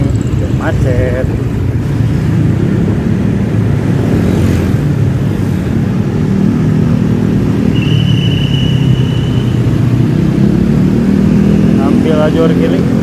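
Congested traffic on the main road in Cileunyi, beneath the Cisumdawu toll road, rumbles nearby and loudly with idling and creeping car and motorbike engines and occasional horn toots, as someone talks over it.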